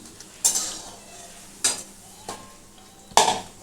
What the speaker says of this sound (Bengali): মোচা বড়াগুলোকে ভাজছি। এগুলো ভালো ভাজা হয়েই গেছে আমার। এটাকে আমি তুলে রাখবো।